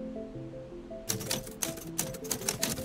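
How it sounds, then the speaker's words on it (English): A typewriter in a puzzle adventure video game types onto a Visa card, a burst of sharp, rapid key strikes following a quiet stretch of soft background music. "Typing on the Visa card."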